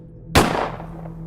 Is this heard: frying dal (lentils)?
no